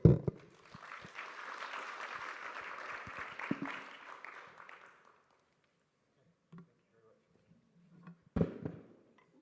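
Audience applause after a panel discussion at a G20 international standards summit morning event, a steady round of clapping that fades after a few seconds, followed by quiet with a few faint thumps.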